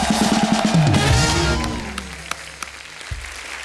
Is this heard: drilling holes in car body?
no